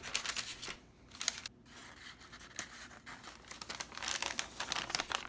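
Paper envelopes made to hold piston rings for a motorcycle engine rebuild, crinkling and rustling up close in a continuous crisp flurry that swells and eases, with no talking.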